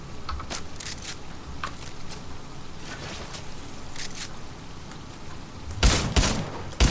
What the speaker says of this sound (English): Oh, it's an auto shotgun.